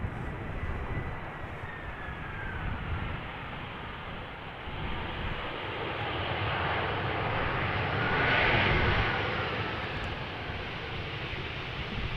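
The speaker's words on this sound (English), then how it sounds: "Crabbing its way over here is Air Arabia, operated by Air Arabia Maroc, arriving from Nador in Morocco, an A320" Air Arabia Maroc Airbus A320, nine years old, crabbing in on a crosswind landing at Amsterdam Schiphol, a sustained broad engine roar that swells as it passes closest, heard alone without talk.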